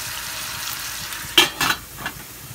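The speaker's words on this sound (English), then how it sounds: "now I will reduce my heat so that they don't burn, they fry nicely" Onions frying in a pan over reduced heat give a steady low sizzle, broken by a few sharp bursts of spatter and stirring near the middle.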